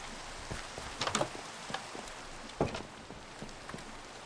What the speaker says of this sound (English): So that we can get rid of the rain.